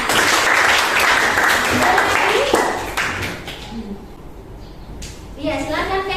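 Students applaud in a high school classroom, a burst of brisk clapping that lasts nearly three seconds and then fades, followed by children's voices and a teacher speaking.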